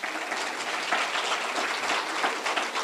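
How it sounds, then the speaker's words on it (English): Audience applause fills a room at a Webb County judge candidate forum, a dense steady wash of many hands clapping close and loud for about three seconds, with no voices over it. "By way of applause."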